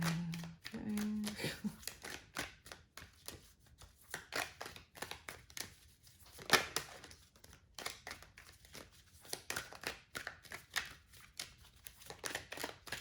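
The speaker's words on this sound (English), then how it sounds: "We'll make sure those are nicely shuffled back in" Tarot cards being shuffled by hand during a reading, a faint series of soft riffles, slaps and papery rustles in an irregular rhythm, close but quiet.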